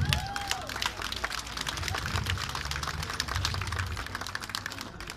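An outdoor festival crowd at a yearly gathering claps continuously, a dense rattle of hand claps. A low hum runs beneath and voices sound briefly at the start.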